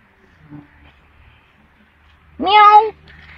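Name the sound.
cats meowing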